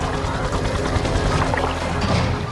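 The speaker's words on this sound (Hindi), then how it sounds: "एक विशाल बचाव हेलीकॉप्टर आसमान से उतरता है" A large rescue helicopter descends through the sky, its rotor noise a dense, steady roar that fills the whole stretch loudly and close, with a broad rumbling wash and no voices.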